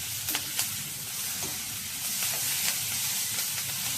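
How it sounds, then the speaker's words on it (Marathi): Tomato and tamarind dry-roasting in a hot kadhai for chutney, a soft steady sizzle and hiss with a few light scraping stirs, quiet and close. "अजून 1 मिनिटभर भाजणार आहे आणि हे आपण भाज करणार आहोत"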